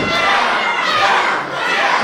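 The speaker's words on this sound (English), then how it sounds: "The meows resonating around Ettington again." A packed wrestling crowd at a PEW show in Ettington chants a mass 'meow' at a wrestler, a dense, continuous roar of many voices that swells and dips slightly throughout.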